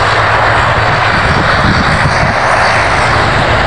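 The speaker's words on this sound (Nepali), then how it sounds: "हेरो किन तल प्लेन उडिरहेको छ" A fixed-wing airplane roars overhead with a loud, steady engine drone that fills the whole moment, close and continuous with no one talking.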